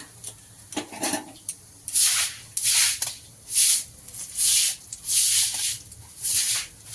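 Bay leaf dropped into fully heated oil with whole cumin for tempering, giving repeated bursts of hissing sizzle that swell and fade in a steady rhythm, close up with no talk.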